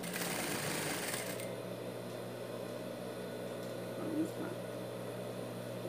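A domestic sewing machine stitches fabric for a dog bandana, a fast buzzing run that stops after about a second, followed by quieter handling and low room noise.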